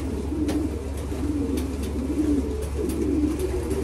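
Steady low cooing from a racing pigeon, repeated in soft rolling phrases over a constant background hum, with no talking.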